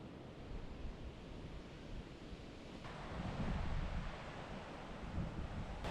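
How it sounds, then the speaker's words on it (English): Force Crag waterfall pours in the Lake District hills, a dense continuous roar and rush of falling water that swells louder midway, heard close with some wind buffeting on the microphone. "directly under the Force Crag waterfall"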